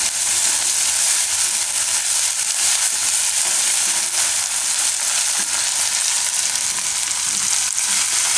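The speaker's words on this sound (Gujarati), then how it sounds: "થોડીક વાર અને તેલમાં ફેરવી લેવું." Lilva paratha, a Gujarati flatbread stuffed with green pigeon peas, fries in hot oil in a pan, giving a loud, steady, close sizzle that continues without a break.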